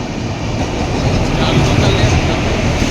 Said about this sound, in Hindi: ट्रेन आ गई है तेजस एक्सप्रेस, इसमें हम अहमदाबाद जाएंगे।